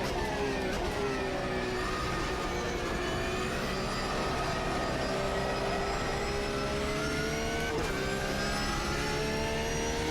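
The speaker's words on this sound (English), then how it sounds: "in the next corner I will heavily understeer the car" A car is driven hard into a corner and heavily understeers, its engine droning loud and steady with a slowly shifting tone and a brief change near the end, with no talk over it.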